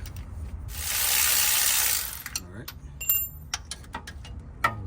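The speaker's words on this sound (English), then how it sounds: "Loosen both of the bolts. 13 millimeters." A ratchet loosens 13 mm starter bolts on a 2008 Silverado, with quick close clicks and metallic taps following a brief hissing burst at the start.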